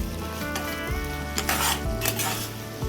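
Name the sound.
capsicum frying in a pan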